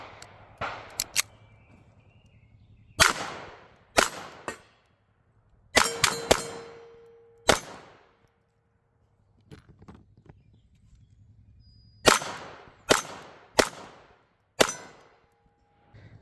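Walther P22 pistol firing at steel targets outdoors, a series of sharp gunshots each followed by a ringing metallic clang, in irregular bursts with pauses, near and loud.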